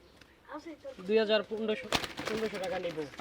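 Racer pigeons at a pigeon farm give a series of close, soft, rhythmic coos, with someone talking over and between them.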